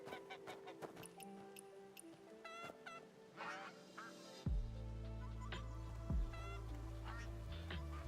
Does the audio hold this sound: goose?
yes